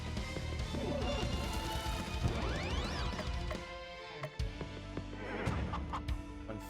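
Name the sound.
chicken attack clucking in video game Cthulhu Saves Christmas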